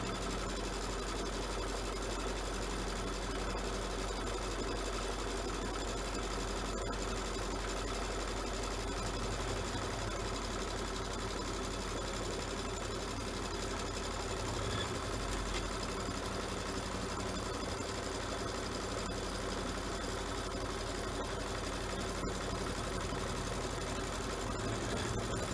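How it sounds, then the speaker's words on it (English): An embroidery sewing machine stitches a straight placement line in the shape of a patch, giving a steady, fast mechanical whir and needle chatter that continues evenly throughout at close range, with no voices. "what it's going to stitch out now is just another straight stitch line in the shape of the patch"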